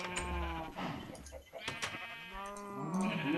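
Blocky video game cows in Minecraft give several wavering moos and hurt cries, close and steady, mixed with a voice talking over them.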